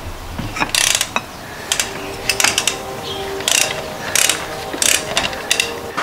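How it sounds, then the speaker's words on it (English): A ratchet clicks in repeated bursts as it cracks the crank bolt loose on a Lexus LS430 engine during a timing belt job, giving loud, rhythmic metallic ratcheting strokes with short pauses between them. "gonna use the tool, the CM, to hold the crank while we crack this crank bolt."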